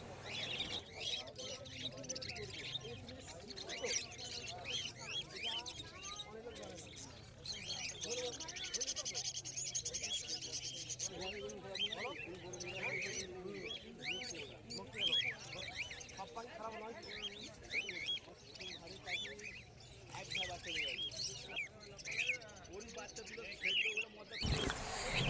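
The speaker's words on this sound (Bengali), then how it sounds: "এগুলি সবই হোয়াইট জাভা স্প্যারো রয়েছে।" Many white Java sparrows at a bird market chirp constantly, high busy calls overlapping with other caged birds and crowd noise, while someone speaks throughout.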